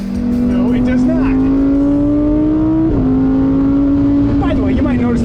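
A Lamborghini Huracan Sterrato on a racetrack, its engine loud and close from inside the car, holding a high, steady drone that climbs, dips with a gear change, then pulls upward again.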